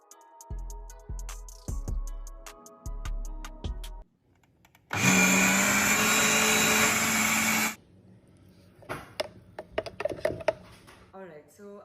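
A kitchen blender whirs loudly for about three seconds, blending a raw vegan chocolate smoothie pudding base. Clunks and knocks come before and after, with some handling noise once the motor stops.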